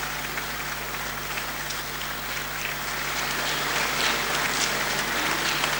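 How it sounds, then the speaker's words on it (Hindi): A crowd at a Pakistani state ceremony with Prime Minister Mir Zafarullah Khan Jamali claps to welcome guests, a dense, even roar of applause running steadily throughout. "तालियां बजा के उनका इस्तकबाल किया गया।"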